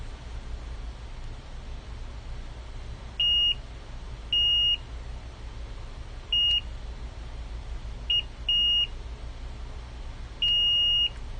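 Several short, high-pitched electronic beeps from a multimeter in continuity mode, testing a water-damaged Nintendo Switch, sound at irregular intervals, some brief and one longer, over a faint steady hiss.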